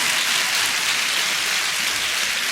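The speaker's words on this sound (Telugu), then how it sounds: "చప్పట్లు కొట్టండి, గట్టిగా కొట్టండి చప్పట్లు" A church congregation claps loudly together as a dense, continuous wash of applause with no break, with no speech over it.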